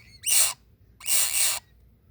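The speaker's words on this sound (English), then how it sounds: "There's two little baby ones. Woodpecker. Little woodpeckers." Two baby woodpeckers, rescued and bound for an animal refuge, give two loud, raspy, hissing begging calls close by. A short pause separates the calls, and the second is longer.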